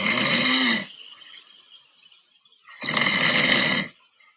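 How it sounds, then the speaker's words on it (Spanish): Two loud snores with a quiet gap between them, each a broad rasping burst of about a second, close and alone, the second following a couple of seconds after the first. "¡Ronquido!"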